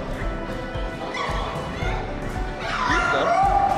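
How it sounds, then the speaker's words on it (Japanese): A dog barks sharply a few times at a dog show in a busy shopping mall, with crowd chatter and background noise around it. "吠えられちゃった。"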